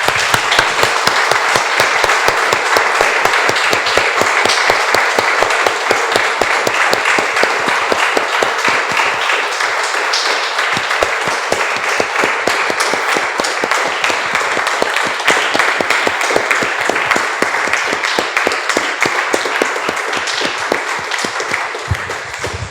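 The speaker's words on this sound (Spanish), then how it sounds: "Damos un aplauso." Sustained applause from a church congregation after a prayer, loud and close, with continuous rapid clapping that stays even for over twenty seconds.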